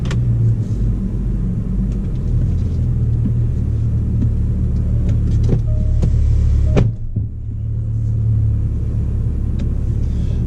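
A Jaguar F-Pace with a 390-horsepower V6 and upgraded exhaust idles and rumbles with a deep, steady low drone, heard from inside the car, with a brief dip in the engine note partway through.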